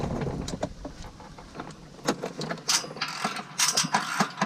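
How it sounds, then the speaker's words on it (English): A hand ratchet works on the exhaust downpipe bolts of a Dodge Charger or Challenger SRT Hellcat, giving quick, fairly faint clicking bursts in uneven runs, close up in a quiet garage with no speech. "you can put your regular ratchet on there"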